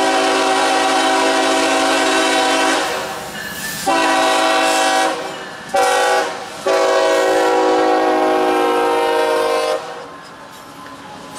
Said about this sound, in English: Made a trip over to the Faustoria just to catch the B&O Heritage locomotive